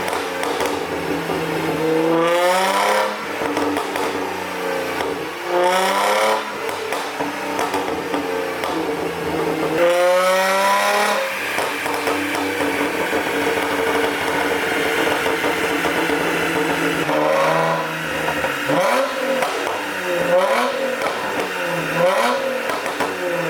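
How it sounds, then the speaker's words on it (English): A modified Nissan 350z engine revving hard in repeated sweeping bursts, loud and close, with crackling pops between the blips and a rough, steady idle underneath. "now I'm going to test out map 2, which should just pop a little bit, and map 3, which occasionally will shoot flames."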